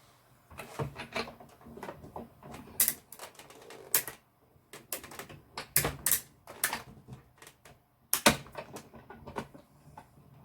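Manual die cutting machine cranked by hand, a die sandwich with a magnetic base plate rolling through, giving irregular clicking, clacking bursts and rattles, close and fairly loud, with no talking.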